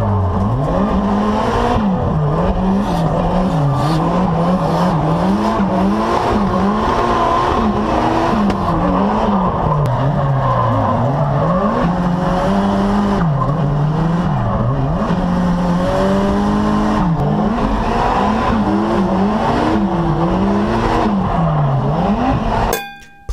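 Race cars roar continuously on a track during tandem drifting, several cars on track together, engines revving up and down with squealing tires as they drift, loud and close throughout.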